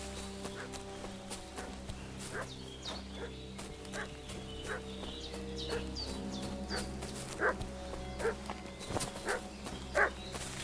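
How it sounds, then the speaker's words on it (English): Dog barking in the medieval game Kingdom Come: Deliverance 2, a string of sharp, mid-distance barks and yips over steady background music and ambient game sounds, growing more frequent toward the end. "What's that dog making such a fuss about?"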